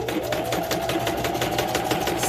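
Sewing machine stitching around a page of an altered book, a fast, even mechanical chatter of needle strokes running steadily and close throughout.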